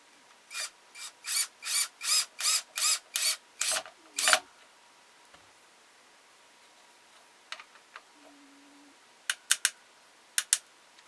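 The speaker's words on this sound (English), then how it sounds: "And I'm using an 1 5/8" screw. We'll screw this in." A 1 5/8 inch screw is driven into a wooden ventriloquist dummy, about a dozen rhythmic rasping bursts in a row, then quiet with a few scattered clicks and taps.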